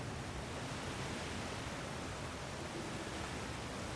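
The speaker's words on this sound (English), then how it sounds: "Sounds like you got the water moving along" Rushing water in God of War Ragnarök, a dense steady roar like a torrent or waterfall, loud and unbroken throughout.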